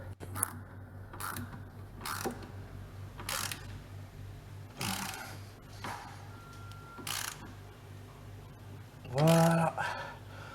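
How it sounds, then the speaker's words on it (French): 13 mm socket on a ratchet tightening a car ball joint: several separate bursts of ratcheting clicks close by, spaced out, with a voice talking between them. "on reprend la douille de 13 qu'on vient serrer ici"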